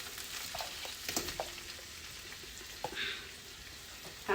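Broccoli, cabbage, carrots, onions and peppers sizzle in a hot stir-fry pan for a Chinese veggie stir fry, a steady close frying hiss with occasional clinks and tosses, no talking.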